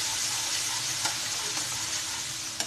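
Ginger garlic paste fries in a pan with onions and cumin for mash dal, giving off a steady, dense sizzle throughout with a few faint clinks.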